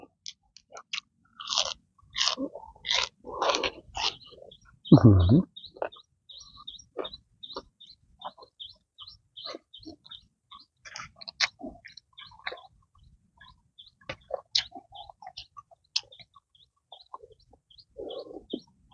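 Close, wet chewing and crunching of banana-stem hor mok cooked with chicken giblets and egg, irregular bites and mouth sounds at low volume, with faint bird chirps in the background and no talk.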